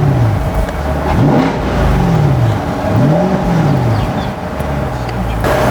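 A Chevrolet Corvette Stingray 1LT in tour mode, its engine rising and falling through several loud revs and shifts, close and continuous, with a voice faintly underneath.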